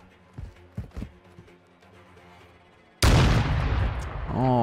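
A Search and Destroy shooter match: faint thuds and footsteps, then one sudden loud gunshot bursts in and its blast and echo fill the rest, followed by a rising electronic tone.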